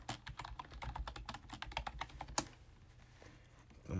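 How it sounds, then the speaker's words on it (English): Rapid clicking of computer keyboard keys on a Mac while a search is typed into Safari, a dense run of close keystrokes for over two seconds, then a quieter pause with a few scattered taps. "I'm going to type in Visual Studio Code"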